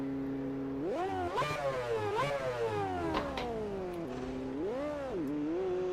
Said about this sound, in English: I hope the engine sound is not too loud.